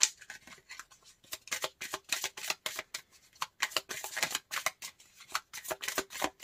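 Playing cards are drawn and shuffled in quick, close bursts of papery riffles and flicks. Short pauses separate the bursts, which repeat in an uneven rhythm, and nobody speaks.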